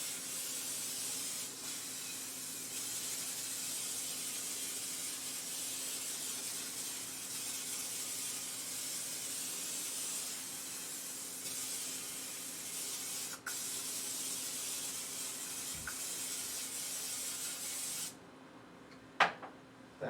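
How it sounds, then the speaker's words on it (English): Pam cooking spray hisses steadily into a casserole dish in one long continuous burst lasting most of the time, then stops, followed by a couple of faint clicks. "Here's my casserole dish, and I like to spray it with Pam real good."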